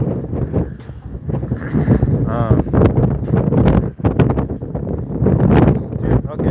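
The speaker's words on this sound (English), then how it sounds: "Yeah, I know, but you can't hear me because it's so windy." Strong wind buffets the microphone outdoors during storm chasing, a dense continuous roar that pulses in gusts while voices talk through it.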